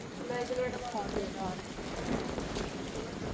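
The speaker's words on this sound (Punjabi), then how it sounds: "ਬਹੁਤ ਤੂਫਾਨ ਆਇਆ" Rain falls during a village storm, a continuous close wash of drops and hiss, with voices talking over it early on.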